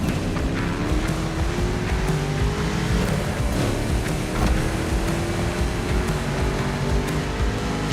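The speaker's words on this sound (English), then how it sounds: "You're driving my #1 car, the star of my collection, the 1969 Mustang Boss 429." A 1969 Mustang Boss 429 engine in the video game The Crew Motorfest roars continuously at high revs, loud and sustained, with a rising pitch as it accelerates and occasional tire noise.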